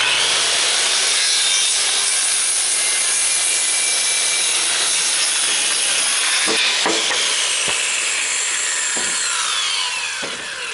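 Handsaw cutting a piece off a wooden roof rafter board of sawmill lumber, loud continuous rasping strokes up close that end with a few sharp knocks as the cut finishes.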